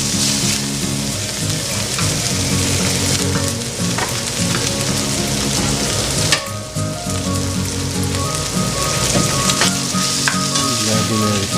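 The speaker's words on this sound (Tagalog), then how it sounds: "Add na po natin yung pork hanggang sa magmantika siya." Pork frying in oil for Filipino menudo gives a loud, continuous sizzle and crackle with scattered sharper pops, steady from start to finish and close up, with no talking.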